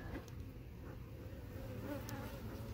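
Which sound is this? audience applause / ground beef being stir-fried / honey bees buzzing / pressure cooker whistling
honey bees buzzing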